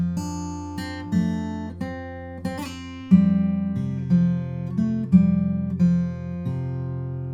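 Fingerpicked acoustic guitar playing the opening bar of a song, with a steady low bass note held on the sixth string under plucked upper notes in an even, rolling pattern, close and clear with no talking.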